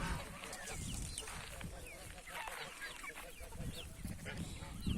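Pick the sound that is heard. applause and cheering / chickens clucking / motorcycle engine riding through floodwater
chickens clucking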